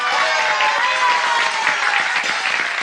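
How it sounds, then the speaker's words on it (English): Audience applause fills a stage play performance, a dense, steady wash of many hands clapping together, loud and continuous throughout with no pause. "Start the applause."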